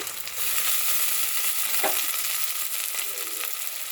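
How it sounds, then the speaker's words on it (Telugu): Moong dal hits hot oil in a pan, giving a steady bright sizzle and frying hiss throughout, with a brief stir or scrape partway through. "చూడండి, పప్పు అయితే వేసుకుంటున్నా."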